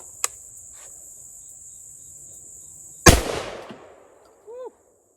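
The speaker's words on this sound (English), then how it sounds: "I'm gonna just aim towards the center of the target and see where the Flite Control buckshot lands." A Beretta 1301 shotgun fires a single Flite Control buckshot round at about 30 feet, one sharp loud blast with a short echoing decay, set against steady insect chirping and followed by a brief voice.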